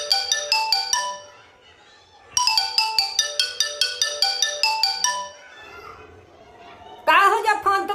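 A phone ringtone plays in two bursts of rapid repeating electronic tones, with children's voices chattering faintly underneath and in the pause between rings.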